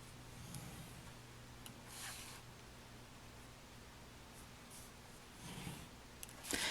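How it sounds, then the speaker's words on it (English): Bone folder scoring dashed lines on paper for a carousel book, a faint, soft scratchy scraping in a few short passes, quiet and close with no talking. "I'm just using a regular bone folder to go over each and every one of those"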